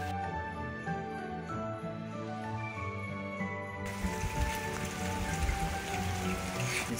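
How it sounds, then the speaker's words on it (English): Steady rain falls outdoors on a rainy Christmas day, a dense, even patter of drops on surfaces with faint tinkling, continuous and fairly close, with no one talking. "It's so rainy."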